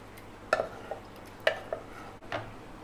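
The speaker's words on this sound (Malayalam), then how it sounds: "എന്നിട്ടൊന്നും മിക്സ് ചെയ്ത് കൊടുക്കുക." A spoon scrapes and clinks against a pot of egg and potato stew simmering in thin coconut milk, with a few distinct stirring strokes close by over a low steady background hiss.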